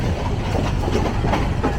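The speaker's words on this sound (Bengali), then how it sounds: "তেজগাঁ রেল স্টেশন থেকে ট্রেন ছেড়ে দিয়েছে" A commuter train out of Tejgaon railway station rolls along the tracks with a loud, close, continuous rumble and rhythmic clatter of wheels, heard alone for a short moment.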